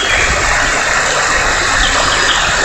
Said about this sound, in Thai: นี่คือน้ำตกที่เราชมในวันนี้นะครับ